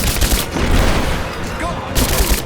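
Heavy gunfire in the video game Rise of the Tomb Raider, loud dense bursts of automatic weapons filling the scene, while shouted voices break in under the shooting.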